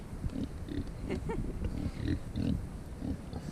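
A pig grunts repeatedly in short, low snorts close by, steady rhythm of oinks with a faint higher squeal or two.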